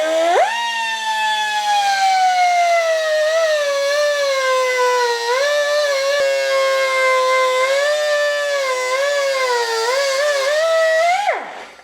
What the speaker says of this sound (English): take the grinder now and trim the pin down to where we need it to be